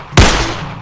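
A toy cowboy pistol is test-fired once, a single sharp loud crack that decays quickly, close and alone.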